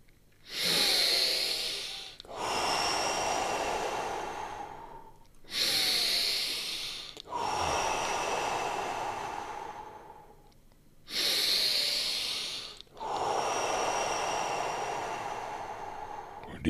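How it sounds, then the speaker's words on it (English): Deep breathing exercise breaths, heard as six long loud breaths in slow alternation, each sharp inhale followed by a long steady exhale, close and alone. "Five deep breaths."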